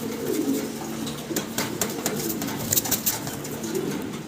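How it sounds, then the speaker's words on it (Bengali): German Beauty Homer pigeons coo steadily at close range, several birds overlapping in soft repeated calls over light rustling and wing flutter, with no talking. "5টা জার্মান বিউটি হোমা একসাথে দেখাচ্ছি আপনাদেরকে"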